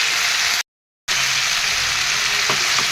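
Pieces of fish and cauliflower sizzle steadily in a frying pan, a close, even hiss broken by a short silent gap, with a few faint clinks afterward.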